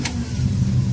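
A 1967 Dodge Dart GT convertible with a 273 V8 starts up and settles into a loud, close, throaty idle with a low, uneven rumble.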